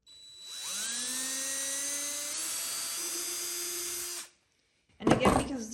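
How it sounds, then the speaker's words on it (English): A power drill bores pilot holes into 1x2 wood boards, with a steady whine that rises in pitch as it spins up and runs for about four seconds before cutting off, followed by a brief burst of other noise. "So we're gonna drill pilot holes first and then put the screws in."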